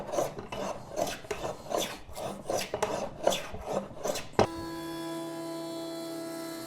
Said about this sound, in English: I used a hand plane to clean up the two high spots and give it a little bit of a flatter surface